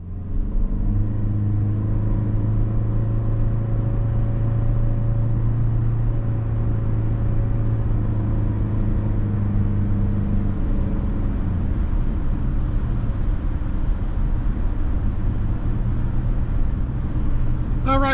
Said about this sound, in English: we're on the road in this 25 Sienna LE base trim action